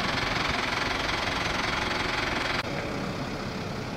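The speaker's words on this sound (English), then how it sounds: "start the tractor up" A tractor engine starts and runs steadily at idle during a January pheasant and partridge shoot, a continuous loud rumble with a rhythmic knock and a slight shift partway through.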